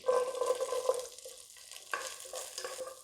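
Curry leaves and shallots fry in sunflower oil for a Chettinad chicken, giving a steady close sizzle that swells at the start, dips in the middle and picks up again toward the end, with no voices.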